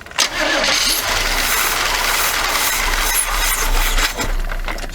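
A 1979 Chevy G20 van engine cranks briefly and catches, then runs loud and steady close by at a rough, uneven idle.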